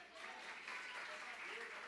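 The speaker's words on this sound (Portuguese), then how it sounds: "Vamos aplaudir o Senhor!" A church congregation applauds during a family worship service, a dense, steady clatter of clapping that runs the whole time with voices mixed into it.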